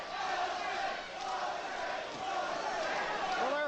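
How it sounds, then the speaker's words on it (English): A boxing arena crowd at a Mike Tyson vs Jose Ribalta fight chants the name Jose, a rhythmic swelling of many distant voices under a broadcast commentator's talk. "Crowd taking up a chant of Jose."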